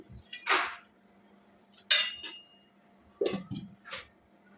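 A kadai set down on a home stove with a tablespoon of oil poured in for ginger chutney gives several short metallic clinks and clatters spaced a second or so apart, close by, with a faint hum between them.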